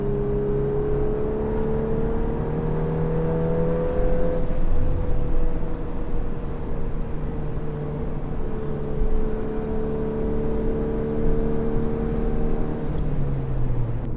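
A Volkswagen Golf R, eighth generation, driving on canyon roads, heard from inside as a continuous engine drone that rises and falls with shifting pitch over several seconds, steady and moderately loud with road noise beneath.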